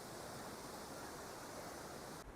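Hidden, large waterfall near Manali, heard as a constant, dense rushing roar of falling water, steady and fairly faint, with no voices over it.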